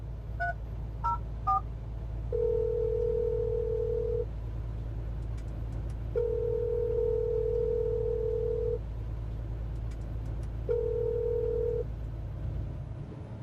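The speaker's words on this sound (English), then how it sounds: "Dialing it right now." Phone call placed from inside a vehicle during a live radio-style show: three quick keypad dialing beeps, then three long, evenly spaced ringback tones over a low, steady engine hum.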